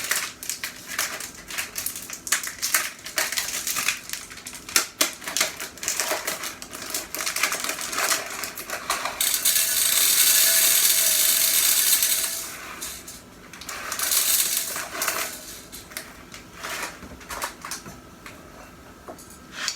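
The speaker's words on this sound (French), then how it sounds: "Je vais prendre du maïs à éclater. Et je vais le mettre tout au fond." Dry popcorn kernels, with no butter or oil, are poured into the bottom of a bowl, making a close, busy rattling patter of many small hard grains with a denser rush partway through.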